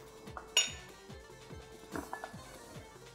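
A spoon stirs lemon into stewed lentils in a pot, giving soft rhythmic scrapes and light metallic clinks against the pot, with one sharper clink near the start.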